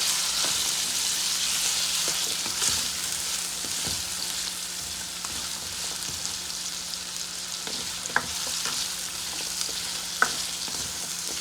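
Carrots fry in a pan as the sizzle holds steady, broken by occasional clicks and scrapes of stirring, close and fairly loud with no voices.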